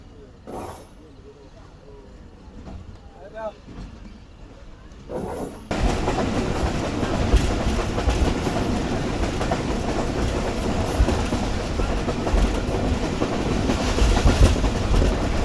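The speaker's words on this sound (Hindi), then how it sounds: "और ये भी एक अदद कंटेनर ट्रेन के साथ है।" A locomotive hauling a container train passes close by, starting with a quieter approach then a sudden loud, steady rumble and rattling of wagons rolling past.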